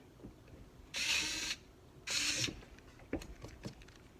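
Screws driven into the spring pack of a Favero fencing scoring machine, two sustained mechanical whirring bursts like a small power driver, then a few short clicks and knocks nearby with no speech.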